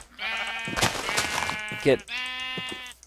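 Sheep in Minecraft bleat twice, each a wavering, buzzy call; someone speaks briefly in between.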